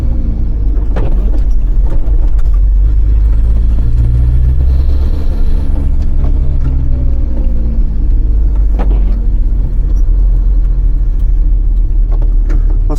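VW T3 van with a TDi diesel engine drones steadily from inside while driving, a loud low rumble with smooth engine tones shifting slowly and occasional thumps, no talking.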